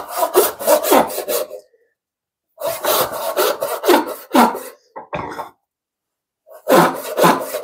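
A hand saw cuts freehand through wood for a dovetail saw handle, with three bursts of quick, loud back-and-forth strokes separated by short pauses and no talking.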